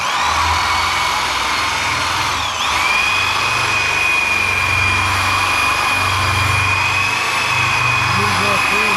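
A machine polisher buffs paint on a 1969 Dodge Charger R/T, a loud, close, steady high-pitched whine that dips briefly and recovers, with a low droning hum and voices talking under it.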